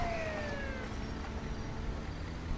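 An ambulance siren wails in a video game, its falling tone clear at the start before sinking into a steady wash of dense game noise and rumble.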